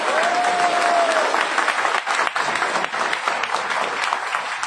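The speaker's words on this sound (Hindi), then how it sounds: "मुझे रियल तालियां पसंद है।" Dense, steady applause from a large audience, loud and sustained throughout with a brief whistle early on.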